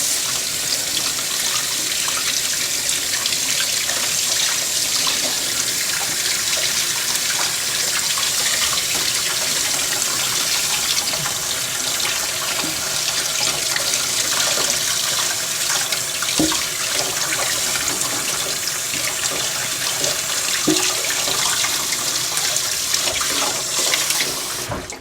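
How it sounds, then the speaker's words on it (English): Tap water runs steadily into a sink as a watermelon is rinsed under it. The hiss is continuous and close, with faint handling splashes throughout and no speech. "So we're gonna rinse this watermelon here."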